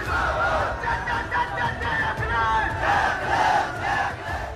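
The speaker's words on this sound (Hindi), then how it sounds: "आप यहाँ देखिए हजारों की तादाद में उनके समर्थक मौजूद है।" A huge crowd of thousands of political supporters at a rally in Jhansi, cheering and shouting continuously in a dense, loud roar with swelling chants.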